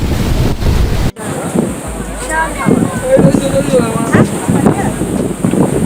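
A strong water current floods a waterside eating area with chairs and tables, a loud, steady rushing roar buffeted by wind, with a sharp drop in level early on.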